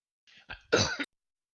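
A short, close cough burst, preceded by a brief throaty rasp, loud and dry, then silence.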